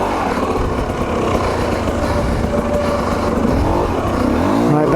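A TM EN 300 dirt bike engine runs hard under throttle on a wet track, a loud, continuous two-stroke buzz with slight rises in pitch as the rider holds the gas.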